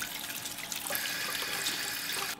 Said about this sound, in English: A little cold water just to get all the extra rinds out.